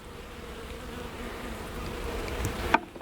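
Honeybees swarm around an open hive with a yellow queen, giving a dense, continuous buzz close by, steady throughout, with a brief knock near the end and no talking.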